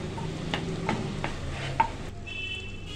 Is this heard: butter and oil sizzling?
yes